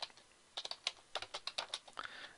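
Keystrokes on a computer keyboard while entering data into coin collection software, a quiet stretch then an irregular run of crisp, close clicks with short pauses between bursts.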